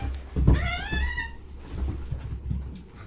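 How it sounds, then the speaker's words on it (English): Cats fighting indoors, with a loud rising yowl followed by lower growls and scuffling noises, fairly close, with no talk over it. "cats rolling in here fighting with each other"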